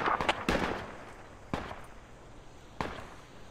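Gunfire exchange in the video game Project Reality: a few sharp distant shots, a quick cluster at the start then single reports spaced about a second apart, fairly faint over a quiet background.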